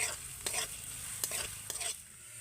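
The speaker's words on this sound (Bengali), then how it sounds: "এবার আমি দিয়ে দেবো কাঁচা লঙ্কা কুচি প্রথমেই আমি এগুলোকে ভালো করে একটু ভেজে নেব" Chopped green chilies sizzle and fry in a pan for a bread and potato snack, a steady close hiss broken by a few sharp stirring scrapes, with no one talking.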